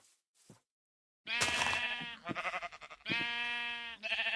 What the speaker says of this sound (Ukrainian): Вівце.